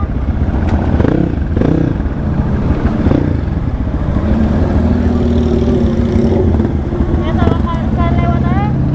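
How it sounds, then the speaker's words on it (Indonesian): A hard-to-start motorcycle engine sputters and revs in bursts, then settles into a rough idle, with people talking nearby. "susah di starter tuh motor."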